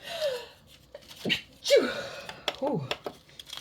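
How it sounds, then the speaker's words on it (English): A sharp sneeze close by amid gasps and breathy vocal sounds, with a second burst following shortly after. "Sorry about that. I typically sneeze twice."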